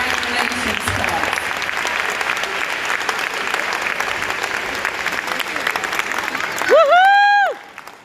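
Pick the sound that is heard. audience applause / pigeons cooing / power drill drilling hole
audience applause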